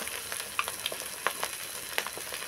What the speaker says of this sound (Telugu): ఇప్పుడు తురుము పెట్టుకున్న క్యాబేజ్ వేసుకుందామండి